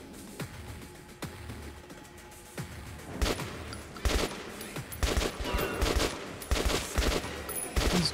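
Bursts of gunfire from a gun in the video game Metro, a couple of isolated shots followed by rapid, repeated volleys that grow louder and denser, with no talking.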